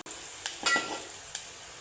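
Onion and turmeric sizzle softly in hot oil in a pan, with a few light scrapes and clinks from stirring.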